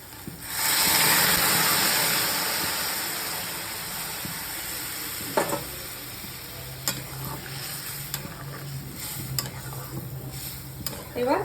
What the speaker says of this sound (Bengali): তো জলটা এখন ঢেলে দেবো।